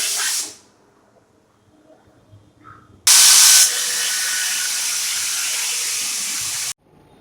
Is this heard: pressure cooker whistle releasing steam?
yes